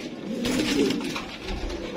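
Pigeons kept as a hobby coo in a low, steady, continuous murmur, several birds overlapping close by with no talk.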